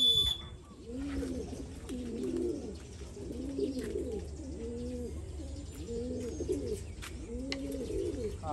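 Pigeons cooing close by, repeated soft rolling coos in a steady rhythm with brief chirps between, over faint background noise.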